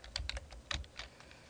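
Command typed on a computer keyboard on a CentOS desktop: a quick burst of about eight close, crisp key clicks in an irregular rhythm, with no talk.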